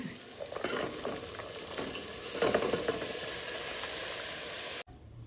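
Cabbage frying in a pan hisses and sizzles steadily up close, with scraping stirs and crackles over about five seconds before the sound cuts off abruptly.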